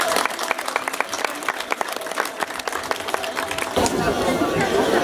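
Crowd applause at a village harvest festival for a harvest wreath, scattered claps mixed with chatter and voices, swelling into a denser, louder wash near the end.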